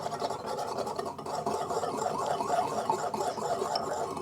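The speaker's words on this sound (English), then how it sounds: "1 teaspoon of sesame oil, and 1 teaspoon of sugar. Just gonna whisk that together." Steady, fast scraping rhythm of a whisk stirring sesame oil and sugar in a bowl, continuous and fairly loud at close range with no talking.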